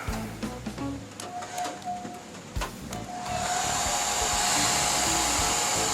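A handheld blower switches on midway and runs as a steady, loud whooshing roar while drying freshly made leather boots in a small workshop, preceded by a few scattered clicks and handling knocks.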